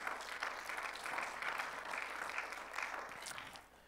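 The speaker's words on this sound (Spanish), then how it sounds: "Denle un aplauso al Señor" A church congregation applauds with soft, steady, fairly distant clapping that tapers off slightly toward the end.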